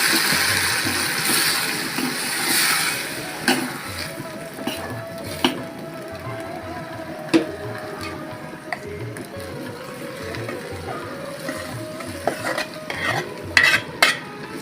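Jute leaves fry in hot oil with a steady, close sizzle, while a spatula stirs and scrapes the pan in scattered clicks and knocks throughout.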